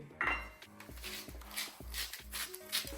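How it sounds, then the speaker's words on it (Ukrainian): Salad is tossed in a bowl with utensils, the bowl dressed with soy sauce, black pepper, salt and honey mustard. Utensils clink and scrape against the bowl in a quick repeated rhythm, close and moderately loud. "І тепер все це гарно перемішую."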